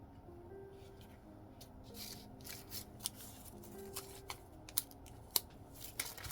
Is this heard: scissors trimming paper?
yes